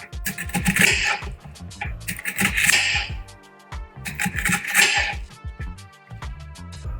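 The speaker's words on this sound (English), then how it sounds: "you can just simply cut your onions" A knife cuts an onion into strips on a cutting board, with crisp slicing crunches and board knocks coming in clustered bursts separated by brief pauses.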